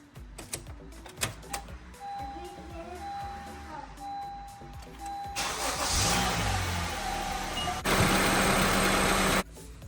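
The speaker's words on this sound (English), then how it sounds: "Okay, now we will start the car and run the car for about 3 minutes." A Honda Civic or Accord engine cranks and catches after a coolant flush, then settles into a steady, close idle with a louder rising rev near the end.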